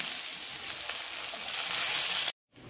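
Whole cumin, dried chillies, bay leaves and crushed ginger frying in hot oil: a loud, steady bright sizzle with crackle that swells slightly, then cuts out abruptly for a moment before resuming, with no talk.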